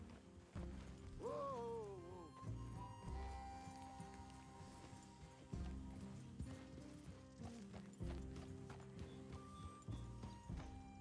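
Horses' hooves clip-clop at an easy walk in the Red Dead Redemption II video game, a steady patter of hoof falls mixed with tack jingling, a snort or whinny and quiet game music, with no talk.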